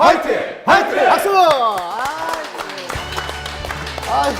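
A small group in a studio setting shouts a rousing three-beat political party cheer in unison, voices rising and falling loudly, followed by scattered applause and clapping.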